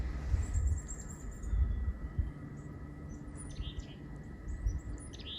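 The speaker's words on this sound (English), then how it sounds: "I can hear the chickadees." Faint, high chirping calls from small birds come and go over a low outdoor rumble, distant and scattered.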